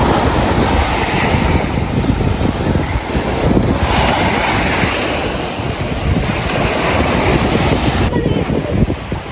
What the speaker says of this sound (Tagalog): Nakaka-relax yung pampas ng mga alon.